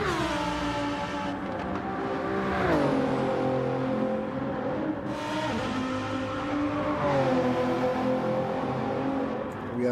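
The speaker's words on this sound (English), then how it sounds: "He is revving it out still a little bit too much." A race car engine in the Gran Turismo 7 video game revs hard and continuously, climbing and dropping in pitch through repeated gear shifts, loud and close with no break.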